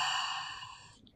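A single soft, breathy exhale during a Pilates rest position, close and fading out over about a second.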